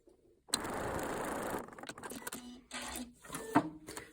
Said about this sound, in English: We're going to stitch again.